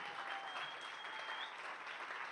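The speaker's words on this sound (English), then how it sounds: "please give a round of applause once again for Cepee," Steady round of applause from an evening entrepreneur speaker-series audience, dense, even clapping that fills the whole moment with no voices over it.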